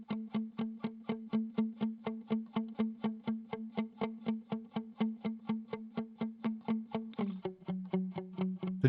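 Guitars played in a higher octave following the bass line, tight distorted chugs in a steady rapid pulse, shifting to a slightly lower note near the end and staying loud and rhythmic.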